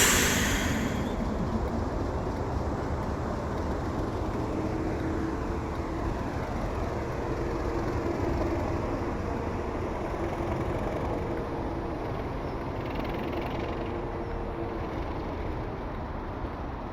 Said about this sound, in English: After starting up, the locomotive heads to the head shunt just opposite the station.